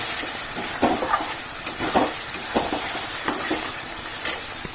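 Mutton sautés in a pan over a low gas flame, giving a steady close sizzle broken by regular light scraping and clinks as it is stirred.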